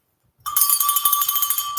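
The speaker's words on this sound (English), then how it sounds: "I brought my damn bell with me." A protester rings a hand bell outside a courthouse hearing, a bright, sustained metallic ringing that starts abruptly and keeps clanging in rapid repeated strokes, loud and close with no talk over it.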